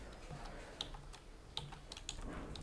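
Quiet computer keyboard typing: a handful of soft, irregular key clicks scattered over a few seconds, close to the microphone with no voices.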